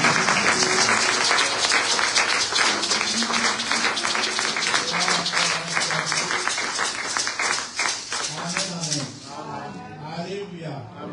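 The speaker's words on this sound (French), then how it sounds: "Donne gloire au Seigneur par tes acclamations." A church congregation at a Sunday worship service applauds and cheers continuously in a dense, loud wash of clapping, with voices shouting and singing over it, easing toward the end as a single voice emerges.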